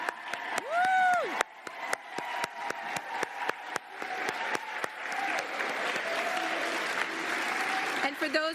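A convention crowd at a state PTA gathering in Syracuse applauds and cheers first-time attendees, scattered sharp claps and a whoop opening into sustained clapping with voices calling out across the hall.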